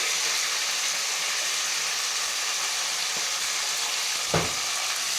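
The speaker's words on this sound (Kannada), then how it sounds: "ಫ್ರೈ ಮಾಡ್ಕೊಬೇಕು ಆಯಿಲಲ್ಲಿ." Tomato, mint and coriander frying in oil in a pan for homemade chicken dum biryani, giving a steady close sizzle and hiss throughout with a couple of faint stirring clinks, no talk.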